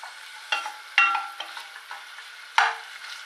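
Onion and garlic with tomato puree sizzle and crackle in a hot pan, with a few sharper spits and pops breaking through the steady frying hiss.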